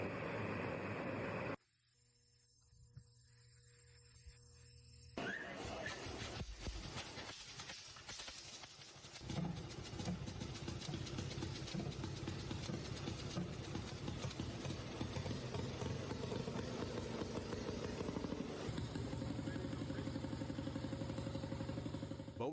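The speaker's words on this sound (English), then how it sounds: "Belinder's 1910 two-cylinder hot bulb semi-diesel with 30 horsepower at 300 revolutions per minute" A 1910 Bolinder two-cylinder hot bulb semi-diesel engine rated 30 horsepower at 300 rpm with 5-liter displacement, shown at Mystic Seaport's Antique Engine Expo, runs with a steady loud low chugging and clatter after a brief quiet gap near the start.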